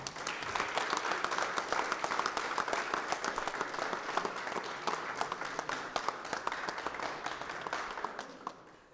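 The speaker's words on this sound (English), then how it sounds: "So please, guys, give him a big round of applause" Crowd applauding a player at the closing ceremony of a Canada vs USA college all-star cricket match, sustained crisp clapping for about nine seconds that thins and fades out at the end.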